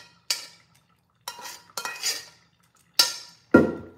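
Metal utensil scraping aromatics around a pan in a home kitchen, heard as five separate short scrapes and clatters with pauses between, the last one the loudest and closest.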